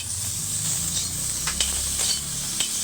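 Okra frying in a pan with a spoonful of mustard paste, a steady close, loud sizzle and hiss with a few faint stirring scrapes, no voices.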